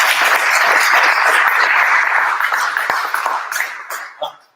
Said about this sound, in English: Try and keep clapping until he comes to the stage